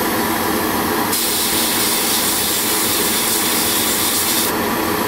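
Airbrush driven by a compressor set near 13–14 PSI sprays copper paint onto a Gundam model kit, a loud continuous hiss that starts abruptly, holds steady for a few seconds and then cuts off over a constant compressor hum.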